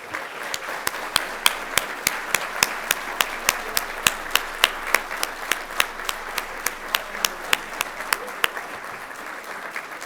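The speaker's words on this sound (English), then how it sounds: "let's give our sponsors a great big round of applause" An audience at an awards event applauds sponsors, a sustained crowd of hands clapping steadily with a few louder individual claps standing out throughout.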